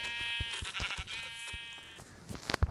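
Sheep bleating in a Minecraft survival world, a harmonic, wavering game bleat lasting over a second and a half, followed by scattered clicks and footstep-like taps.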